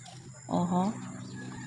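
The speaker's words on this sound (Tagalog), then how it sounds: "May manok." A single short cluck from a hen, fairly close, against a quiet outdoor background.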